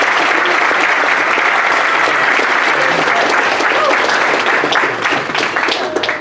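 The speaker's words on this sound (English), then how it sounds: "Give them a round of applause." Sustained applause from an audience at a student leadership academy's torch-passing award ceremony, steady and dense throughout, easing slightly near the end.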